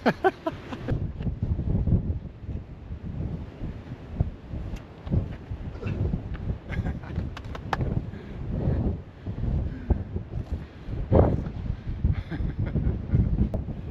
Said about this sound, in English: Doesn't matter where I am, the wind follows me.